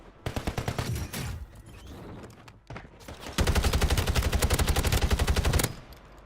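Rapid bursts of automatic gunfire from a video game battlefield, a short volley early on, then a loud sustained stream of fast shots near the end.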